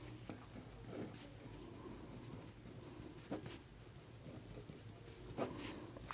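A pen or marker writes on paper or a board while a maths problem is worked out, with faint scratchy strokes and a few sharper taps against a quiet room hum.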